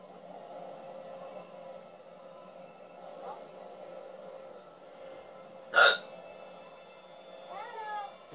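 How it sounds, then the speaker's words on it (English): A single sharp hiccup stands out briefly mid-clip over a quiet game soundtrack, with a faint chirping sound near the end. "He's... goddamn hiccups."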